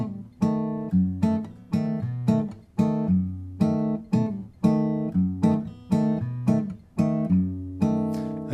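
Guitar fingerpicking a Bossa Nova pattern with an alternating bass, bass notes switching between strings under syncopated plucked chord pinches, played close, steady and unaccompanied.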